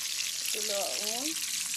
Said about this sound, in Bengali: আর একটু হলুদ দিয়ে ডিমগুলো আমি ভেজে নিব